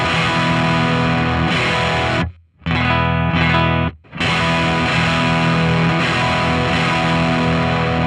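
Electric guitar through a level-matched, modelled Valve Driver overdrive pedal rings out in gritty sustained chords, broken by two short pauses and restrikes, loud with no voices.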